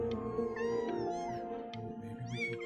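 Cat meowing in the video game Before Your Eyes, a run of several drawn-out, rising and falling meows over a steady game music bed, fairly close and clear with no talking.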